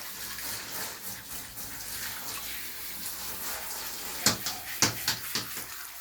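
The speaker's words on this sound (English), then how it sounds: "I want to make sure all the shampoo is rinsed right out." Water from a tap runs steadily to rinse shampoo out of a dog's coat during an at-home bath, and a few soft knocks and splashes sound near the end.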